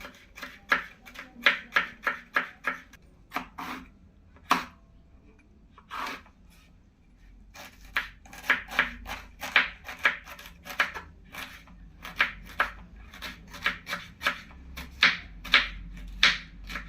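Knife chopping snake gourd into small pieces on a board, a quick run of close, crisp rhythmic cuts that pauses briefly and then resumes at a steady pace.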